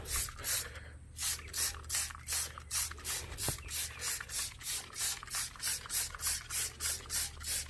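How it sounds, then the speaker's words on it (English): Rhythmic bursts of a trigger spray bottle spraying wheel cleaner on a 2020 Dodge Charger Hellcat Widebody tire, about a dozen quick hissing squirts in a steady pulse, close up with no talking. "And I just spray the whole tire down."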